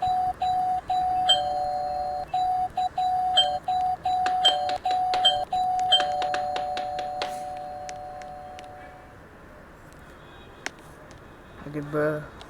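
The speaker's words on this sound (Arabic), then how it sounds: "اقعد ارن الجرس كده، لازم لحد ما اخليهم يتفاجئوا" A doorbell in the Roblox video game is rung over and over, a clear electronic chime repeating in quick bursts for several seconds before fading, with a voice speaking briefly at the end.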